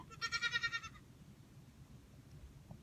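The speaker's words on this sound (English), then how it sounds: "Goat. Goat." A goat bleats once, a loud, wavering, quavering call lasting about a second near the start, followed by quiet room noise with no talking.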